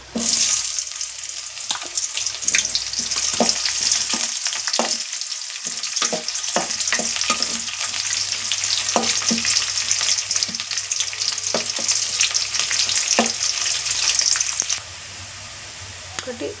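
A medium-sized onion goes into hot oil for capsicum fry and sizzles steadily and loudly, with scattered sharp clicks and scrapes of stirring throughout; near the end the sizzle suddenly drops to a quieter hiss.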